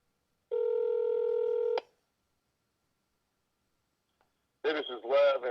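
A telephone call goes unanswered: one clean electronic ring tone lasts just over a second, then comes a long silence before a voice starts speaking.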